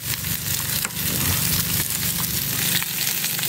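Food frying in oil on a Blue Rhino Razor griddle alongside New York strip steaks, with a loud continuous sizzle and occasional spatula scrapes as it is pushed around.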